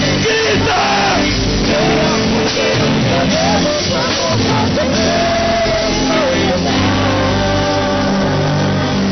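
A church congregation at a Portuguese-language worship service shouts and cries out together in a loud, sustained wall of overlapping voices with music underneath.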